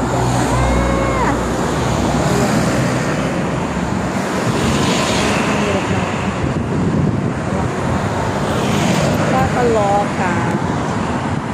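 Busy roadside traffic, with cars passing nearby in a steady loud wash of road and wind noise and occasional brief higher-pitched engine tones.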